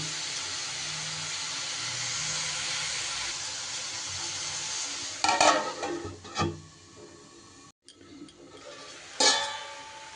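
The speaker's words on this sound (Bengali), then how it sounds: "এবার আমি গ্যাস কমিয়ে মূলোর এই জলেই মূলোটাকে আমি সুন্দর করে সিদ্ধ করে নেব ঢাকা চাপা দিয়ে" Grated radish simmering covered in its own water over low gas with raw chickpeas, a soft steady hiss and faint bubbling, then a few louder clanks and scrapes from the lid or spoon near the end.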